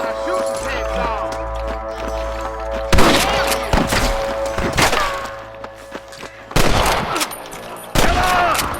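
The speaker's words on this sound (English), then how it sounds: "I can hear more gunshots." Gunfire in a shootout in the Red Dead Redemption video game: several loud bursts of rapid shots and thuds over a rumbling background, with quieter stretches between volleys.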